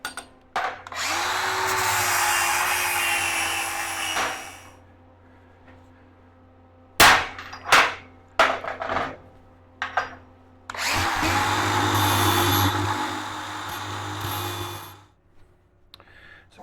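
A drill press taps threads into one-inch steel in two long whining runs with sharp clicks and knocks between them, loud and close, no voices.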